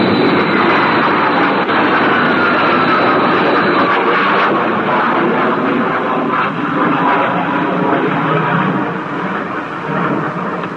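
A loud, continuous roaring rush of a spacecraft engine at takeoff in the TV series UFO, broad and thunderous, holding steady before easing slightly near the end.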